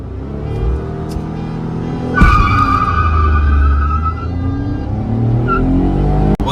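A Tata Punch and a Tata Tiago accelerate hard in a drag race, with loud revving engines, a sharp tyre squeal and rising engine notes as the cars pull away close by.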